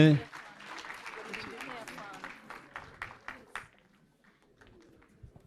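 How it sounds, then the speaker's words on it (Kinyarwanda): Wedding guests applaud at a Rwandan wedding celebration, a burst of crowd clapping mixed with voices that gradually thins and fades toward quiet, scattered sounds. "mubongera amashyi menshi cyane."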